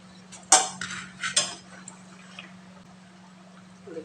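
Lentil and jackfruit-seed fritters go into a pan of simmering curry with a few clinks and scrapes of a metal spoon against the pan, two sharp knocks followed by softer taps, then quiet under a low steady hum.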